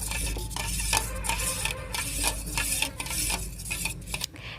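Mango pulp being stirred into milk for a mango pudding, a steady wet scraping and clinking of a spoon against the pot, close and continuous with small knocks throughout.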